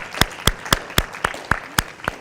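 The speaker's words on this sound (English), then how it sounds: "Give yourselves a round of applause." Audience applause at a math conference comes through as sharp, evenly spaced claps, about nine in a steady rhythm, sounding sparse rather than a dense ovation.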